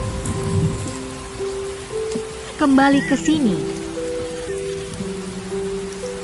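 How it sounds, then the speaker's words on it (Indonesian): Steady rain falling in a constant hiss throughout, with people talking over it in the middle. "bahwa sekarang sedang hujan"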